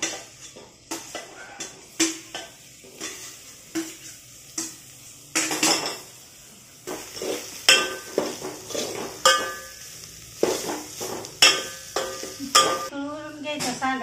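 Soybean sandge fries and is stirred in a pan, with repeated metal scraping and clinks of a utensil over a soft sizzle. The strokes come in an irregular rhythm, close and fairly loud.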